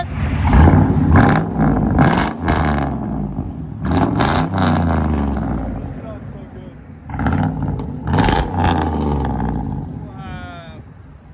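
A 2002 Chevy Silverado 2500HD with a 6.0L V8 and straight-pipe true dual exhaust revs hard in repeated loud bursts, roaring up and dropping back between pulls, with people talking over it.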